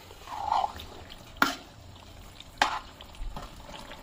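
Fried vegetables are stirred into spices for pav bhaji in a pan over a medium-high gas flame, with a few scraping clatters of the spoon over a soft, steady sizzle and no talking.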